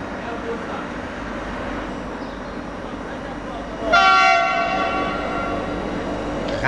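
A Traxx E483 locomotive passes through an Italian station on a regional line. A low rolling rumble builds, then a loud, bright multi-tone horn blares near the end and rings on, with a faint voice underneath.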